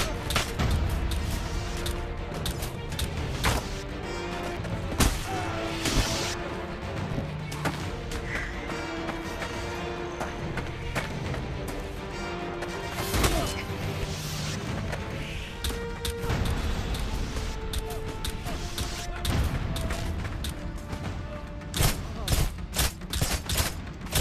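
Dense video game gunfire, a steady barrage of shots, crashes and booms running throughout, with a busy mix of explosions and impacts.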